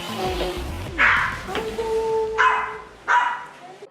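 Golden doodle puppies at a breeder's apartment yap and bark in short, sharp bursts, several yips spaced across the clip, close and fairly loud over background voices.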